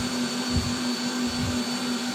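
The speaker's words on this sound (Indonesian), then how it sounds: "Menunggu adonan di mixer" A stand mixer kneads pizza dough in a loud, steady drone with a constant motor hum and faint thumping as the dough turns, close and unbroken throughout.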